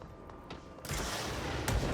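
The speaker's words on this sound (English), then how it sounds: "Someone has a missile launcher." Missile launcher fire in the video game Control: a muffled distant thud, then a loud booming blast with rumbling debris and a second heavy impact near the end.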